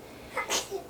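A baby girl gives a single small sneeze, short and close, with soft babbling sounds just before and after it.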